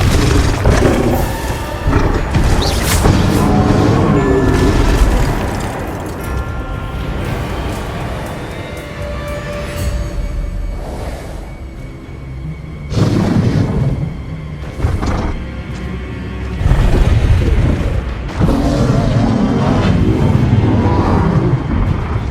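Bombarda and Confringo explosion spells fired in Hogwarts Legacy, a loud run of booming blasts and whooshes with rumbling bursts overlapping through the whole stretch.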